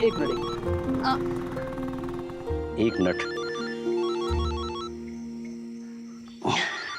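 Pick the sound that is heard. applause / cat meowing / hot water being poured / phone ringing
phone ringing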